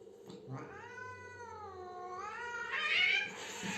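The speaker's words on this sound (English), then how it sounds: "Well, that's an angry cat." An angry cat yowls in a long, drawn-out caterwaul that rises and bends in pitch before breaking into a harsher, higher wail. It is fairly quiet and close, with faint background noise.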